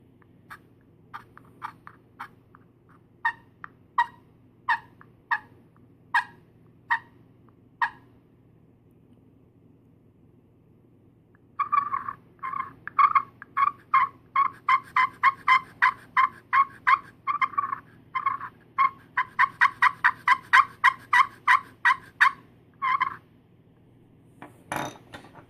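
A turkey friction call played with a hollow striker makes sharp, evenly spaced clucks, first sparse, then a fast run of close, crisp yelps and clucks, loud against quiet.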